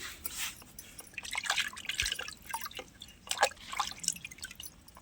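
Soil-covered tubers are washed and rubbed by hand in water, with faint, close, irregular splashes, drips and trickles in scattered bursts.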